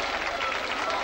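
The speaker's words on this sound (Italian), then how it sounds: "a loro va un grandissimo applauso per riscaldare questa piazza" Dense, steady applause from an outdoor crowd in a town square in Valenzano for a theatre company, a continuous wash of clapping throughout the short moment with no distinct voices.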